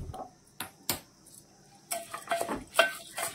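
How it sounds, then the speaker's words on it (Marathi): Rice for jeera rice being turned in oil in a pot, heard as scattered metallic scrapes and clinks of a utensil against the vessel with quiet gaps between and only a faint sizzle. "पूर्ण तांदूळ आपल्याला ह्या तेलात परतून घ्यायचा आहे"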